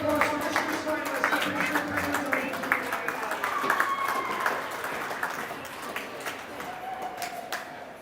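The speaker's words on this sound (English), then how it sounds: "Once again, a big round of applause for this year's finalists." A crowd at a girls' youth hockey tournament awards ceremony applauds the finalists with sustained clapping, while an announcer's amplified voice carries over the applause.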